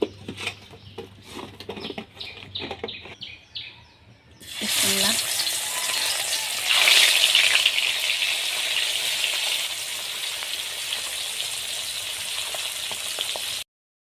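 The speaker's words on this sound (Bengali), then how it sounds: "মাছটা এখন ভেজে নেব।" Nola fish fries in hot oil. After several seconds of soft clicks and handling noises, a loud, steady sizzle starts abruptly and continues close up with little change, then cuts off at the end.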